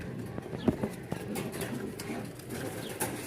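A pair of racer pigeons coos softly in low, short murmurs, mixed with faint rustling and background chatter nearby.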